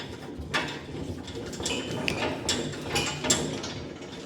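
Hand ratchet cranking in a garage during removal of a small-block Chevy engine, a run of close, uneven clicking strokes with metallic rattles over about four seconds, with no speech.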